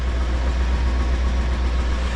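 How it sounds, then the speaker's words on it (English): A Ford Crown Victoria engine idles with an exhaust muffler leak, giving a steady, loud, low rumble that continues unchanged and close. "We got a muffler leak right there, that's for sure."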